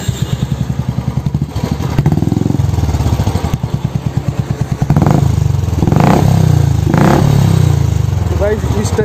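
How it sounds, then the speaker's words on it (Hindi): A new motorcycle's engine runs close by: a steady, throbbing idle that rises into a louder, rougher rev about halfway through and stays raised to the end. "इस टाइप का आपको साउंड मिलेगा और इंजन का साउंड आप सुन सकते हैं यहाँ पर।"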